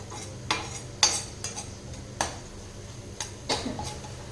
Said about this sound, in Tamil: அடுப்பை சிம்மில் வச்சுட்டு ஒரு ஒரு நிமிஷம் வதக்கி விட்டீங்க அப்படின்னா நல்லா வதங்கி வந்துடுங்க